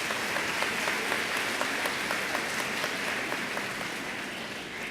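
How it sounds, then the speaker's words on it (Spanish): An audience applauds people from San Miguel at a gathering, dense sustained clapping at a steady level for several seconds with no voices over it. "pero un aplauso pues sí para los migueleños"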